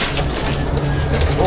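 A crow calls a few times close by, its calls standing out over a low, steady background with voices nearby.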